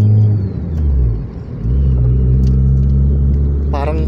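A manual Honda Civic FD engine drones low and steady from inside the car, dipping briefly before rising again toward about 6K RPM, with a voice cutting in near the end.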